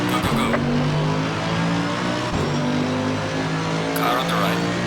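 Race cars racing in Assetto Corsa Competizione at the Hungaroring with an AMG EVO GT, engines droning and shifting pitch with gear changes, close and loud, as a voice speaks over the engine noise.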